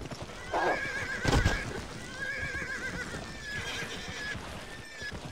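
A horse in the western video game GUN neighs with a long, shaky whinny that repeats in bursts, with hoof clatter and a loud thump partway through.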